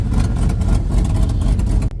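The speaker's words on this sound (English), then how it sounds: "She probably sounds so much better out the tailpipe versus the exhaust leak." Chevrolet OBS truck with an LS engine swap, its deep low exhaust rumble steady and loud close by for about two seconds, cutting off abruptly near the end.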